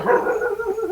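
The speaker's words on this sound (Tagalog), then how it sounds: "Ikaw po ba yung tinatahol ng aso dyan sa kapitbahay?" A dog gives a short, sharp bark or yip at a neighbour's cat, a single brief close call.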